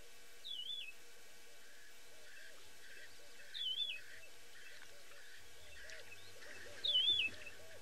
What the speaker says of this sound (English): This is called the yellow-throated longclaw, and listen to the call.